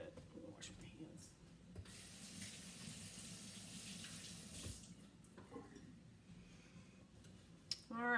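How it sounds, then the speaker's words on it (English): Tap water runs into a kitchen sink for hand washing while baking, a steady rushing stream of about three seconds with soft splashing and faint background sounds before and after. "I'm gonna wash my hands."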